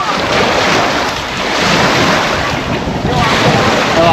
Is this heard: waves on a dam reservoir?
yes